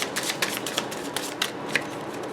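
Tarot cards being shuffled by hand make crisp, papery riffles and flicks in quick irregular bursts, close and clear with no voices.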